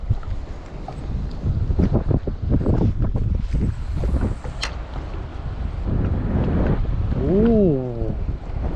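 Wind buffets the microphone on a small fishing boat over shallow open water, rumbling steadily throughout while someone talks over it.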